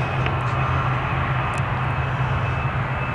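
Finnair airliner taking off at Manchester Airport, a steady loud roar of jet engines with a constant high whine throughout, heard from the ground without talk.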